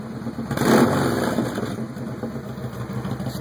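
Kawasaki VN1700 motorcycle with Cobra Speedster exhaust runs in a rural driveway, a loud throbbing idle that swells with a brief rev near the start and then settles into a steady lumpy beat.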